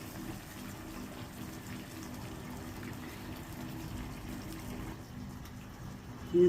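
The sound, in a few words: water being poured into potato cabbage kurma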